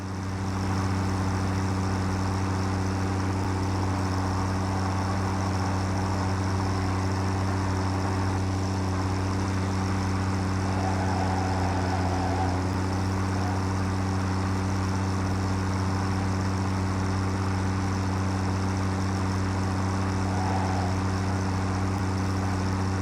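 The Explorer vehicle in the video game Satisfactory drives with a steady, loud low engine drone and hum, continuous and unbroken with faint tonal whines on top.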